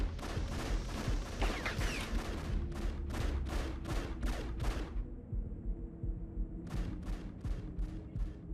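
Enemies in the video game Afterfall Insanity fire guns in sharp, rapid bursts of shots, first a dense volley, then evenly spaced cracks, a short pause and a final run of shots, all loud and close.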